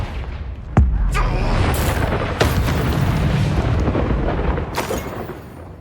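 Fiery Confringo spell blasts in Hogwarts Legacy, three sharp explosive cracks spaced a couple of seconds apart over a loud, continuous rumbling roar of battle noise.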